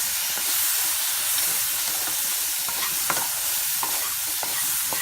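Peanut salad ingredients sautéing in a hot pan, with lemon juice and salt just added, give a steady close sizzle and hiss that carries on without pause for the whole stretch, broken by faint stirring clicks and no voices.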